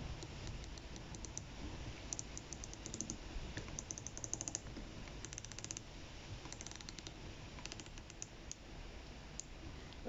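A Pagani Design dive watch bezel with a ceramic insert being rotated, giving a run of small, fast, crisp clicks in bursts through the clip, close and faint over a quiet background.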